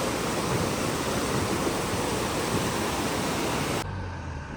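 Kundal Shahi waterfall in Kashmir pours in a steady, dense roar of rushing water that holds constant before dropping off abruptly near the end.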